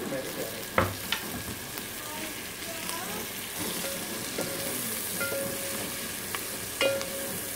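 Sliced onions fry with cardamom and cinnamon in a pan for butter chicken sauce, a bright, continuous sizzle broken by sharp scrapes and clinks of stirring, with a faint voice at times.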